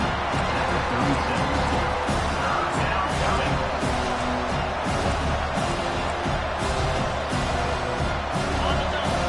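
Stadium crowd roaring and cheering behind the defense on third down in the College Football 25 video game, a loud, continuous wash of crowd noise with swelling peaks throughout, no voices rising clearly above it.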